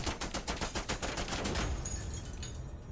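Rapid automatic gunfire from a battle in the video game Menace rattles in an even stream of close, loud shots, then thins toward the end.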